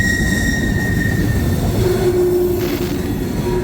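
CSX mixed freight train with old Dash 8 and Dash 9 locomotives rolling past up close, a loud continuous rumble of heavy wagons with wheel squeal ringing out along the rails.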